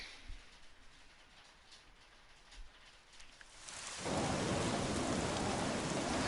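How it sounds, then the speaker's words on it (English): Quiet surroundings with faint rumbles, then heavy rain suddenly pours down, a loud, dense hiss filling the last couple of seconds. "It's raining in real life too"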